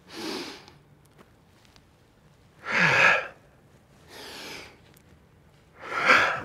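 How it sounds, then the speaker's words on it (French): Slow, deep breaths during a Pilates exercise: audible airy inhales and exhales, four breaths in all, spaced a second or two apart and heard up close with no talking. "Tu inspires, tu gonfles le ventre. Tu expires, tu creuses le ventre."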